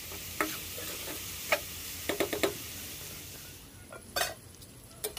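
Pork frying in its own rendered fat with potatoes in a pan makes a low, soft hiss, broken by scattered sharp crackles and stirring clicks that come in small clusters.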